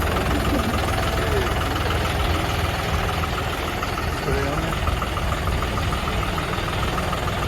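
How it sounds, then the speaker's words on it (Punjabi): A new John Deere 5210 tractor engine idles with a steady diesel chug and knocking rumble, fairly close and constant throughout, with some voices faintly underneath. "ਟਰੈਕਟਰ ਆਪਾਂ ਕੱਢ ਲੈ ਜਾਂਦੇ ਬਾਹਰ"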